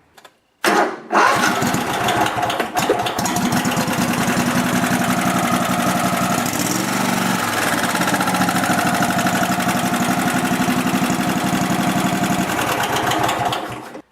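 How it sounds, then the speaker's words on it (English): A small lawn tractor engine cranks over after a brief pause, catches, and settles into a steady, loud running idle that drones on close by. "start up the tractor just to make sure that all the connectors are good"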